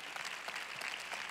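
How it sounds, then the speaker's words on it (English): A church congregation claps its hands at a worship service, a faint, steady patter of many hands throughout the short stretch with no other sound over it. "clap your hands and give God praise like you do."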